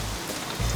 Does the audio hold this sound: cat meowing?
no